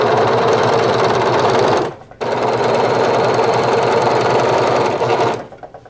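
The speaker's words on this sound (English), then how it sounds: "while I'm at it here with the serger, I might as well do the hemming right along the bottom of the shirt" A serger stitches the side seam of a shirt sewn from a bed sheet, a loud, steady mechanical whir that runs continuously, breaks off for a moment, then resumes before stopping near the end.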